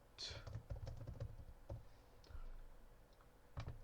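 Keys clacking on a computer keyboard while code is entered, a quick irregular run of clicks with a few louder presses, close and fairly quiet.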